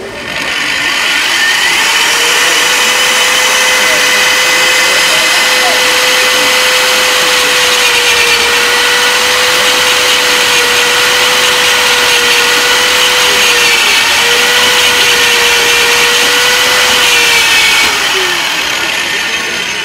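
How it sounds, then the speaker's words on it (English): A pipe-end planing machine spins its blades and cuts into a pipe, giving a loud, steady mechanical whir with a sustained tonal whine running unbroken for about twenty seconds. "I would have to start it up first in order to get the blades rolling before I cut the pipe."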